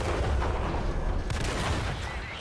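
An artillery shell strikes a tank in World of Tanks, a heavy booming impact followed by a rumbling, crackling tail that slowly fades, loud and close.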